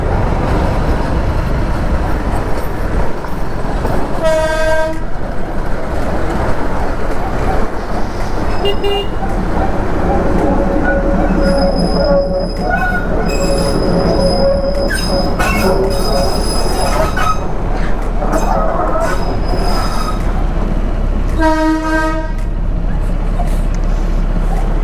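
Toy train crossing a road, heard up close: loud continuous rumbling of wheels on rails with recurring metallic squeals and horn toots, and voices talking at times over the din.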